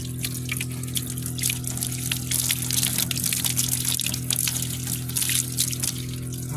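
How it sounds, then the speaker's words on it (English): Water rushes steadily through newly installed bath house plumbing with a water heater, a continuous close splashing flow with a low hum underneath and no pauses. "Okay, got flowing water there."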